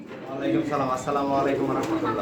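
Pigeons at a pigeon seller's stall coo in soft, repeated warbling calls, steady and fairly close, mixed with a busy murmur of background noise.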